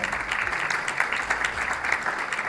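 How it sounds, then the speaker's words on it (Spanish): Audience applause for a speaker at a China–Colombia dialogue forum, a steady patter of many hands clapping throughout at moderate level, with no talk over it. "Un aplauso, por favor."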